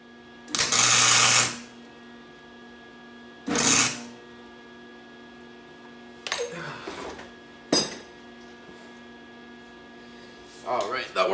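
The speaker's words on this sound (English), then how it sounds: "And then I'll tack weld it into place" A welder tack welds a traction bar on a Honda CRX/EF chassis, giving four or five short, loud crackling bursts of about a second each, separated by pauses, over a steady low electrical hum.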